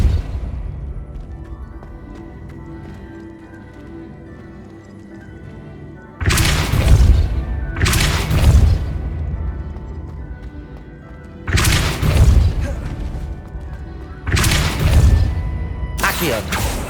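Depulso spell blasts in Hogwarts Legacy strike in a series of five loud, heavy bursts with crashing objects, separated by quieter stretches of low game ambience.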